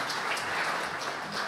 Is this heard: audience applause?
yes